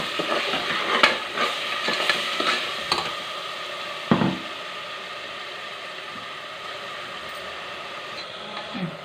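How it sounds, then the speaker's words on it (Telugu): Masala sizzles steadily in hot oil for a mutton curry, with occasional stirring scrapes and clinks of the spoon against the pan close by. "మంచిగా ఇట్లా మసాలా అంతా బాగా ఆయిల్లో వేయించుకున్న తర్వాత"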